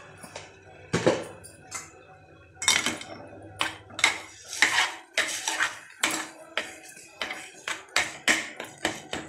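A spoon mashes cooked eggplant in a metal vessel, giving irregular bursts of clinking knocks and scrapes, close and fairly loud, with short pauses between strokes.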